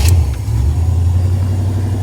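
A 1989 Chevy K1500 Z71 pickup engine running right after starting, a steady low rumbling idle that stays close and loud with no talking.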